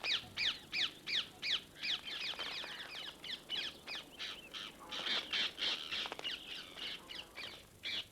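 Ring-necked parakeets calling outdoors in England, a run of harsh, repeated shrieking calls in quick bursts, fairly close and clear, with quieter stretches between the louder series.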